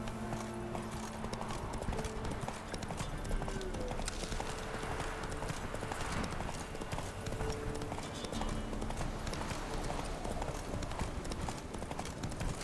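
Roach, Geralt's horse in The Witcher 3, gallops with a steady, rapid clip-clop of hooves over a continuous game ambience, fairly faint, with a brief whinny and a low voice at moments.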